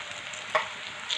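Kothimbir vadi, coriander fritters, shallow-frying in oil until reddish-brown: a low, continuous sizzle with soft crackles and one brief sharper pop partway through.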